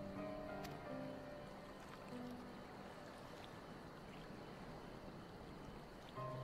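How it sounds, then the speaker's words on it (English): Gentle ocean waves wash steadily in the Final Fantasy XIV game world, a soft continuous surf lapping under quiet tonal game music with no talking. "It calms me, the sound. It helps me to remember the sway of the ocean when I close my eyes."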